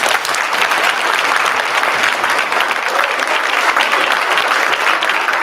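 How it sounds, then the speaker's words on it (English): Loud, close applause from a concert audience for a school choir at a preview concert, dense continuous clapping holding steady from start to finish. "Can we give them one more round of applause?"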